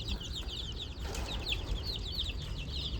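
Free-range village chickens in a farmyard cluck and chirp in a steady, overlapping chatter, with scattered higher calls over a constant low rumble of background noise.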